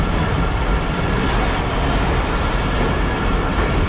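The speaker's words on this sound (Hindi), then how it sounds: "हैदराबाद जंक्शन रेलवे स्टेशन पर हमारी ट्रेन पहुंच रही है ठीक 3:11 पर" The Rehman Baba Express pulls into Hyderabad Junction with a loud, dense, continuous rumble of rolling wheels and carriage noise heard from inside the train, steady throughout.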